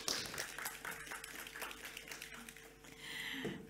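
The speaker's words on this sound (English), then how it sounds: "Please give a huge round of applause for Jill and our panel." Faint, distant audience applause for Jill and a panel at an Auslan-interpreted accessible tech event, a scatter of individual claps heard well back in the room.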